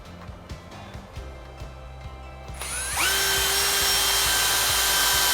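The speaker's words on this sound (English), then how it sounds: "drill a screw." A power drill drives a screw into a bench built from a 100-year-old whiskey barrel: soft ticking clicks first, then the motor spins up into a steady, loud whine that holds to the end, close by.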